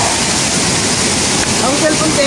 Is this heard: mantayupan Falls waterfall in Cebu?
yes